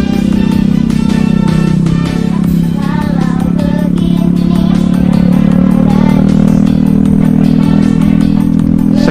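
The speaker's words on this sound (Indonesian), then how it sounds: "Seger bener ya suara knalpotnya." A motorcycle exhaust revving loudly and close for the whole stretch, a continuous throaty drone with clattering edges and slight rises in pitch.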